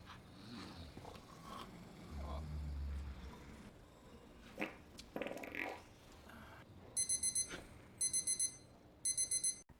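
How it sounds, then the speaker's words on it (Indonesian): An alarm clock rings in three short bursts of rapid electronic beeping near the end, after some scraping and rustling sounds. "tidak sengaja alarm jam Kijun berbunyi"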